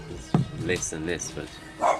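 A pet dog barks in a room during a podcast conversation, one sharp close bark early and another short burst near the end, both cutting through ongoing talk.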